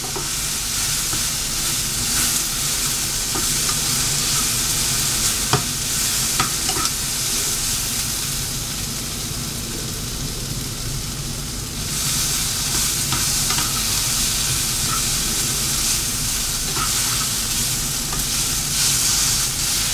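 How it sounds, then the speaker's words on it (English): Carne asada for tacos sizzling and simmering in a pan, a loud, continuous close-up hiss with occasional spatula stirring clicks over the whole stretch. "So just let that simmer in there."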